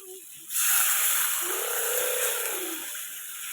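Water poured into a hot pan of spiced, sautéed potatoes for a fish curry, bursting into a loud broadband sizzling hiss that rises abruptly and holds steady, fading slightly toward the end.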